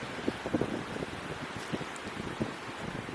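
Steady wind rushes across a riverside campsite on the Darling River at Menindee, a broad continuous roar with faint gusty swells and occasional low knocks, no voices.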